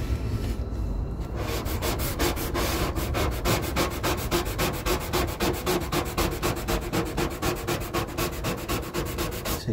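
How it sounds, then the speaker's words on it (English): A felt squeegee rubbing a vinyl side stripe onto the body of a Citroen C1, a fast, rhythmic, close scraping stroke repeated continuously and loudly with no pauses or talk. "See, what I wouldn't want to do this without this felt squeegee."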